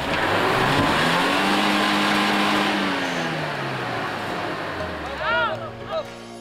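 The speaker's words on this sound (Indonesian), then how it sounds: "mobil yang aku tumpangi ambles dan tersangkut" A car engine revs and strains while stuck in muddy ground on a rural road in Kolaka Timur, Sulawesi Tenggara, its pitch rising and falling in long surges, with a voice speaking over it and some clattering near the end.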